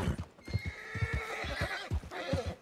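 A horse neighs in the RedM video game: a loud, close whinny over steady clip-clop hoofbeats, with the hooves thumping throughout.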